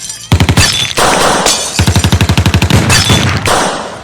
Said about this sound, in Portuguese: E agora vemos um bando de criminosos atrás dele atirando feito loucos.